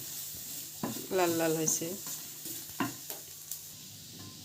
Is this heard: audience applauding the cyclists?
no